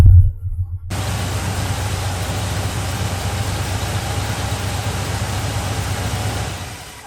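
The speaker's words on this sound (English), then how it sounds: "I'll literally start this truck up right now and you can hear for yourself." A Chevrolet Squarebody truck with a misaligned power steering pump pulley fires up with a brief cranking burst, then settles into a steady, rumbling idle with a constant hissing whine on top, close and moderately loud.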